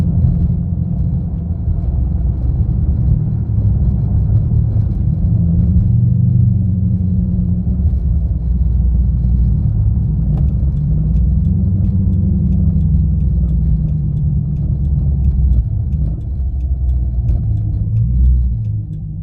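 A 2013 Dodge Charger R/T with the 5.7L Hemi V8 rolls along a rough county road, a steady low engine rumble and road roar holding throughout with faint ticks and rattles over it.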